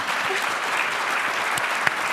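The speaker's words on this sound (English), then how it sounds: "Can we get a clap for that, please?" Audience at a women of color in golf event claps steadily in a dense, continuous wash of applause, with a couple of sharper individual claps standing out near the end.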